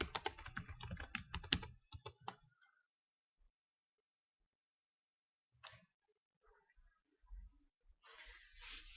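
Rapid typing on a computer keyboard, with a dense burst of clicking keystrokes up close, then a long pause and a few more scattered taps.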